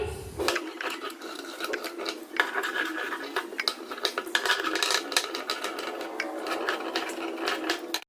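Sewing machine stitching fabric in a fast, rapid clatter of needle strokes, close and fairly loud, with short bursts and brief pauses as the cloth is guided along.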